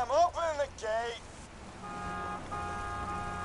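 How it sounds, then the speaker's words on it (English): A car horn in the video game Borderlands 2 gives a steady, sustained honk of moderate loudness that follows a brief burst of a speaking voice. "Just drive up and honk your horn."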